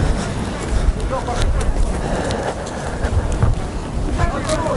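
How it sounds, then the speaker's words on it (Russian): Steady cold north wind on an off-season beach in Sochi, rushing and buffeting against the microphone, with low rumbling gusts throughout and faint background activity. "Ветер дует, ветер прям такой северненький."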